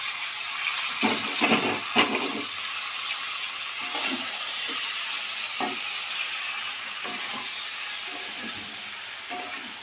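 Greens being stirred into a sautéing shankar fish curry in a pan, a steady loud sizzle and hiss with a series of scraping, clattering stirring strokes, with no talking.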